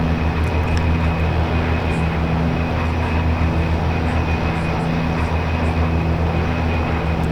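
Steady, loud propeller-engine drone from an OV-10A Bronco in DCS flight simulation, a continuous hum with strong low tones and a faint high whine, unbroken and without talk.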